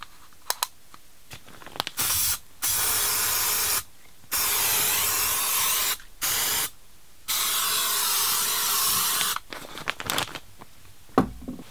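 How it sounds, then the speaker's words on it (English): Insecticide spray hisses at ants around a nest area in several sustained bursts of a few seconds each, separated by short silent gaps, loud and close with no talking. "I'm gonna go ahead and do some spraying here."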